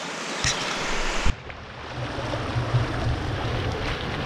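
Mountain stream water flowing steadily on a hill walk, a broad rushing wash heard up close and fairly loud, with a gust of wind buffeting the microphone at the start before the water settles into a constant roar.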